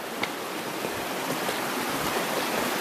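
Guayamayo river flowing steadily nearby, a continuous broadband rush of water heard while walking along its bank, with no talk.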